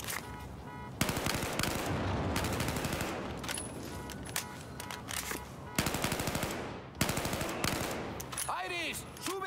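Sustained automatic gunfire and repeated shots in the video game Battlefield 4, loud and dense bursts filling most of the span, with brief pauses and some faint voices and effects mixed in.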